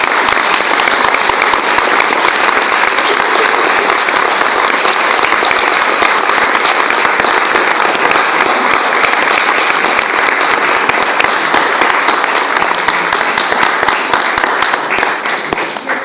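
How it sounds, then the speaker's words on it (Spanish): Audience at a university lecture applauding a speaker, loud, continuous clapping from a large crowd that holds steady for about sixteen seconds before easing off at the very end. "Vamos a darle un fuerte aplauso a Marta Lidia."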